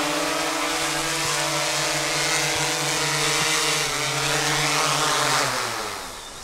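Small drone with spinning propellers carrying a cockroach, a steady close buzzing whine with harmonic tones that shift in pitch as it descends, then fades slightly at the end.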